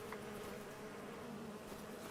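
Bees buzz around beehives in Enshrouded, a soft, steady, continuous hum of many insects close by with no pauses or talk.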